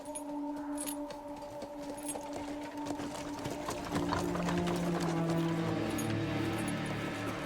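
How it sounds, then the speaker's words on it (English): Horse hooves clip-clop steadily in The Witcher 3: Blood and Wine, a rhythmic trotting clatter of game footsteps over low ambient tones, with a second layer of hoofbeats joining midway. "Horses are so pretty."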